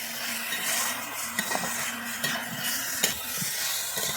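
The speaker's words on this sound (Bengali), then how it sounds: "ভেজে রাখা আলুগুলো দিয়ে আমি আবার একটু কষিয়ে নিচ্ছি" Chicken and pre-fried potatoes stirred in a pan, giving a steady sizzle with spatula scrapes and small metallic clinks at intervals.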